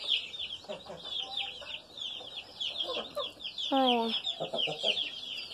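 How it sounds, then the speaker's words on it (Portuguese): Hens cluck near and fairly loud over steady high peeping from small chicks in a backyard coop, and someone speaks briefly. "Essas daqui é as galinhas."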